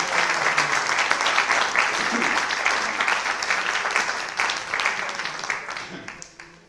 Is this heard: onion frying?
no